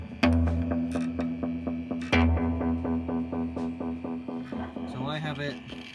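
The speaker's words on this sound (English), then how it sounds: "if I take you down, the delay pedal will sound like this" An electric guitar runs through a delay pedal, each plucked note trailing into repeating echoes that blur into a washy, psychedelic wash. Two strong attacks ring out before the tones wobble and fade.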